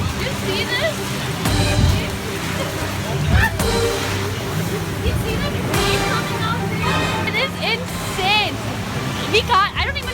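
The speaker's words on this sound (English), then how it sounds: "There's too much rain." Heavy rain and sloshing water pound a ship at sea during a storm, a loud, continuous wash of spray and surf under frightened talk and exclamations.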